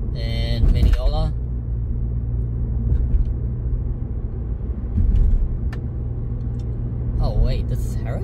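A car drives along Herricks Road in Mineola, its engine and road noise forming a steady low rumble, with someone talking over it at the start and near the end.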